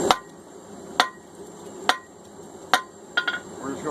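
Hot S7 tool steel is hammered on an anvil to taper it, with sharp, ringing metallic blows landing about once a second, four evenly spaced strikes followed by a quick cluster of lighter taps.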